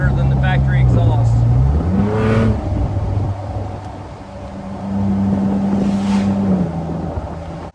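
Ford Bronco Raptor fitted with CPE downpipes and intercooler, a loud deep exhaust drone that rises in pitch through revs, eases off, then settles into a steady hum before fading.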